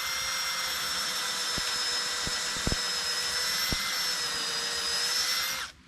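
A power drill whines steadily into maple tree wood, drilling a 5/16-inch tap hole about 1.5 inches deep, for several seconds, with a few sharp clicks, then cuts off abruptly.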